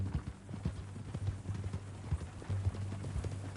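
A horse walks at a steady pace in the Red Dead video game, its hooves clip-clopping rhythmically and clearly over a quiet low background hum.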